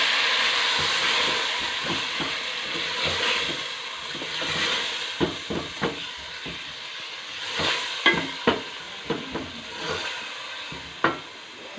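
Tomato paste goes into browned onion masala in a pan, where it sizzles and hisses steadily while a spoon stirs and scrapes with repeated clicks and taps close by.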